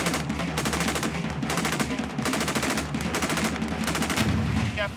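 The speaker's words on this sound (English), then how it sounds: "When the company commander gives them the cue, the fire support will all open up. That's the cue, and in they go with tracer bullets flying just above their heads." Fire support opening up with tracer rounds during a military assault exercise: loud, continuous rapid bursts of automatic gunfire that stay dense and unbroken throughout.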